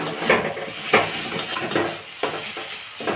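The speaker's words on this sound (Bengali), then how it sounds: "এবার মাছটা তেলের মধ্যে আমি দিয়ে দেব। দিয়ে ভালো করে ভেজে নেব আর একটু।" Fish frying in hot oil in a home kitchen, a soft continuous sizzle punctuated by several sharp clinks and scrapes of a utensil stirring in the pan, close and alone without talk.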